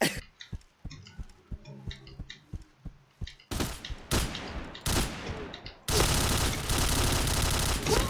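Rapid video game gunfire in a Thai-language shooter, sharp repeated shots in quick bursts that build into dense, loud continuous firing toward the end, with no talk.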